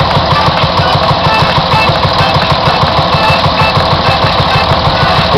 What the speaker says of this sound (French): 1954, 25 chevaux, monocylindre, c'est un tracteur à boucle chaude, à Jean-Pierre Girardeau.